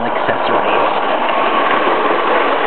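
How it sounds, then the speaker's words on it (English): Lionel model toy train running around its track, a steady mechanical whirring and rumble with a constant level, heard under someone talking. "So the train keeps chugging along."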